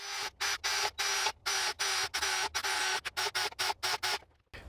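A tool punching small quarter-inch holes around the top of a metal can for a homemade gasification stove, a rapid series of short, harsh grinding bursts separated by brief pauses, close and loud with no talk.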